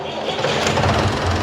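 A 1972 David Brown 990 tractor with its original, never-opened 60 HP direct-injection diesel engine idles up close, a loud steady rumble with no talk over it.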